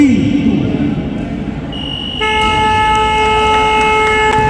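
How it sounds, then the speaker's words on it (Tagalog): A basketball game buzzer sounds and holds a steady electronic tone over a noisy crowd-filled gym, loud and continuous after a brief lead-in of crowd murmur. "Buzzer na lang ito mapapakinggan."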